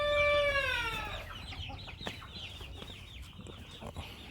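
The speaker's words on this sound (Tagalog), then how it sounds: "ating mga sisiw." Chickens and chicks on a flooded, muddy native-chicken farm, with a rooster-like call opening over steady clucking and chick peeps that carry on close by, with no talk.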